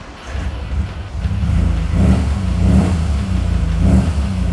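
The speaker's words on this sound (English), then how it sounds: "How about I start it for you so you can hear it? It's got a great little sound." A 1960 Austin Healey Bug Eye Sprite with upgraded engine, big carburetors and a full free-flow exhaust idles loudly up close, its small engine rising in a few throaty revs with a steady low burble between.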